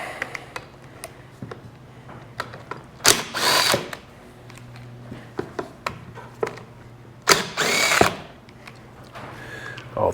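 A power tool spins bolts out of a Bennche Spire 800 UTV motor during teardown, giving several short, loud whirring bursts separated by quiet pauses and small metallic clicks, all close up.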